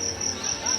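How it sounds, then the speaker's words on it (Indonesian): Cricket chirping at a safari park in Prigen, a steady high-pitched trill pulsing in short bursts, close and moderately loud against a faint background hum. "Jangkrik ya."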